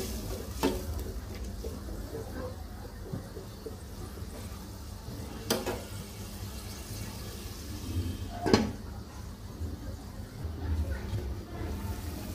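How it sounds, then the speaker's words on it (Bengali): Malabar spinach stalks being stirred with spices in a frying pan, a soft continuous sizzle with a few sharp utensil knocks against the pan, quiet and close, with a voice speaking at times. "দিয়ে নেড়ে চেড়ে ঢেকে দিব।"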